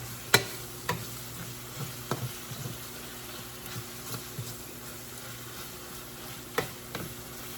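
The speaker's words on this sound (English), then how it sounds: "I'm going to go ahead and drop my greens into my sauteed onions and peppers" Collard greens drop into a pan of sautéed onions and peppers and sizzle steadily, with occasional clicks and knocks of stirring over a constant frying hiss; close and fairly quiet, no voices.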